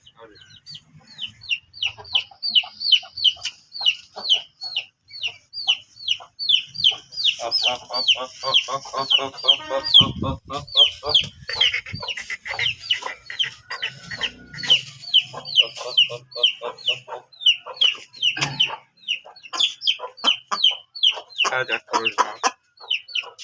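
A flock of backyard hens and roosters clucks almost continuously in quick, overlapping calls, close and loud, with a voice briefly speaking among them.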